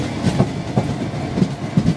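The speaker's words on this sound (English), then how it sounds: "There we are, 322484 Northern Rail." Northern Rail class 322 electric train 322484 passes close by in West Yorkshire, its wheels beating out a loud, rhythmic clickety-clack over the rail joints with a steady rumble underneath.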